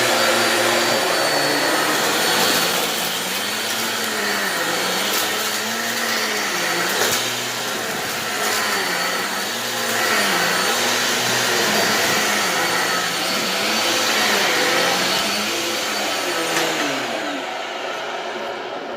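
A Hoover vacuum cleaner runs continuously during a cleaning test against dirt, a loud steady motor whine with a slowly wavering tone that drops away at the very end.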